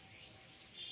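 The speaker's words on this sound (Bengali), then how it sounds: "ঝিঁঝি পোকার ডাক" Crickets chirp on an evening walk, a steady high-pitched trill that runs unbroken and fairly faint through the whole moment, with no voices.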